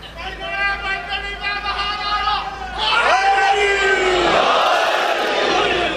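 A crowd at a Muharram majlis chants a religious slogan in unison, a loud swelling collective shout that rises after a preacher's amplified speech and fills the hall.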